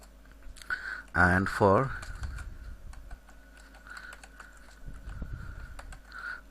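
Rapid typing on a computer keyboard while writing ActionScript 3.0 code: steady, close clicks run through the whole stretch, with a voice speaking briefly near the start.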